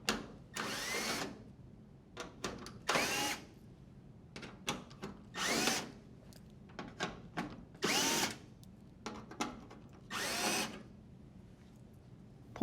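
A power drill backs the screws out of an appliance panel in short whirring bursts, about seven of them and irregularly spaced, with quiet handling clicks between.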